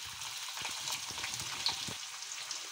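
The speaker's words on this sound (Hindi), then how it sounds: "ज़ीरा और लहसुन फ्राई हो गए हैं," Onions frying in oil in a kadai, with a continuous close sizzle and soft stirring scrapes, no voices.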